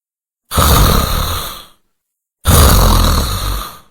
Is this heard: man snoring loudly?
yes